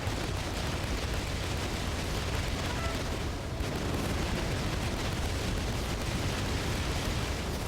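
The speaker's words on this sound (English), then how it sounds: "Uh-oh, flak guns are shooting at me." Flak guns firing in the video game Battalion Wars 2, a dense, constant roar of bursting anti-aircraft shells and blasts that carries on loud throughout with a brief dip midway.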